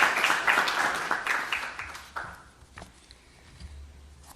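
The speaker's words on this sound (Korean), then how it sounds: "자, 박수로 환영합시다." Applause welcoming the head of KAIST's Graduate School of Green Growth as an outside guest at a presidential meeting; dense clapping starts loud and thins out, fading to scattered claps by the end, with no talk over it.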